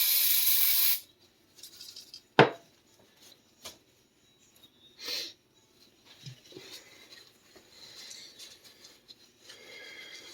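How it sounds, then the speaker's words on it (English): A short hiss from an aerosol spray cleaner can onto a diesel fuel injector part from a Ford 1910 tractor, followed by quiet handling clicks and faint rustling. "let's spray a little bit of spray cleaner on one side of this"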